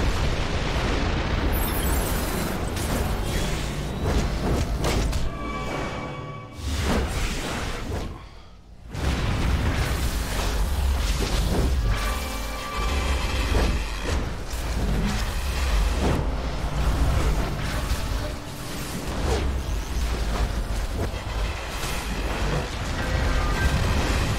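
Bombs blow up in DC Universe Online, loud booming explosions and bursts in a dense, chaotic game mix that carries on almost nonstop, with one brief lull.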